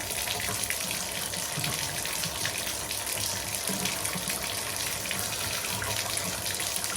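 A faucet gushes steadily into a tub, a loud, constant rush of water filling the space with no pauses.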